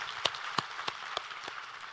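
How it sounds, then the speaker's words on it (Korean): Applause offered to God during a Korean church sermon on the Book of Daniel, heard as a thin, low-level patter with a few sharper claps standing out at uneven intervals. "우리 하나님께 감사와 영광의 박수를 드리겠습니다."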